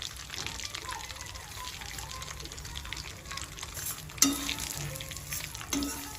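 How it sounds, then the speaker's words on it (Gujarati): Vermicelli roasting in ghee for sweet sev, a soft low sizzle with light stirring scrapes and a couple of sharper clinks of a utensil against the pan near the end. "આવી રીતના આપણે સેવ સરસ શેકી લઈશું ગોલ્ડન બ્રાઉન"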